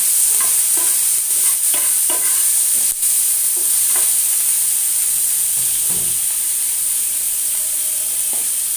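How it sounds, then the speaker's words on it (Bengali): Onion and garlic paste frying in a pan is stirred with repeated scraping strokes over a loud, constant sizzle, the stirring busier at first and then easing off. "এটা দিয়ে নাড়াচাড়া করে নেব।"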